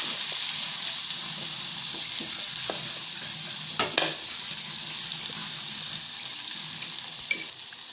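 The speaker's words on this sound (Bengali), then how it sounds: "আলুগুলো আগে ভেজে নেব" Steady, loud sizzling of cut potatoes frying in hot oil, with a few brief scrapes of stirring partway through.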